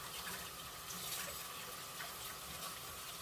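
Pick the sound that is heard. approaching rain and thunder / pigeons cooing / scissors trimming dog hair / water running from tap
water running from tap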